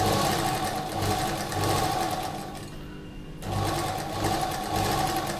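Sewing machine stitching a second seam alongside the first on a slip, a fast steady whirring run that pauses briefly midway, then resumes at the same pace.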